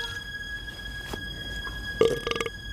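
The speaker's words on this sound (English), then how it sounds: "then he burps" A character in a 2000s horror film, a ginger-bread themed movie, lets out a short, loud burp near the end of an otherwise quiet scene with faint background hum.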